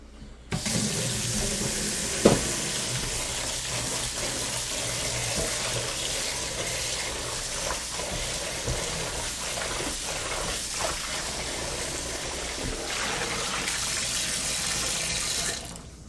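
A kitchen sink tap runs steadily while a big plastic bowl is washed out, making continuous gushing water with occasional soft knocks and splashes until the flow stops.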